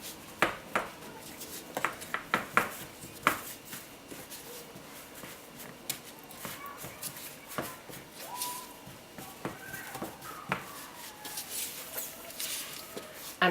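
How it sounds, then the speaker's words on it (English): Wooden spoon pressing and spreading sticky gingerbread mixture into a lined baking tin, giving irregular soft knocks, scrapes and clatters against the tin at close range, with no talking. "Press it down using the back of the wooden spoon."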